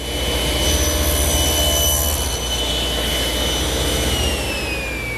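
A table saw runs steadily, cutting a tenon on a wooden chaise lounge leg, with a loud sustained blade whine over a broad rushing hum that eases slightly partway through.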